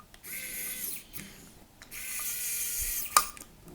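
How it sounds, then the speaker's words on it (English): Screw being driven by a small electric screwdriver to fix an Intel bracket onto a Cooler Master liquid cooler pump, two short whirring bursts close up, ending with a sharp click. "if we turn things over, we can then set a screw into place"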